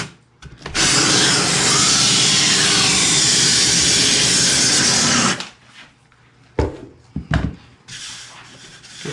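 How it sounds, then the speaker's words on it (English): A wooden guitar side being sanded with a steady, loud abrasive rasp for about five seconds, then stopping, followed by a few short scraping strokes and handling knocks. "as I sand, I can see where it's hitting and where it's throwing dust out."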